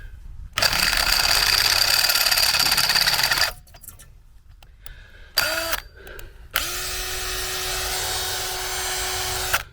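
A power drill bores holes in fittings on a 40 ft (12 m) tower, running in loud sustained bursts separated by pauses and short revs, the final run steadier with a lower tone.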